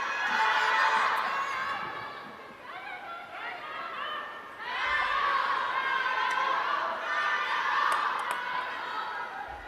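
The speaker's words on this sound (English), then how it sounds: "The fan club's getting at each other now, fighting for supremacy of crowd support." Rival fan clubs cheer and chant against each other at a table tennis singles final, a large crowd whose rhythmic shouting swells, dips briefly, then surges again with overlapping voices.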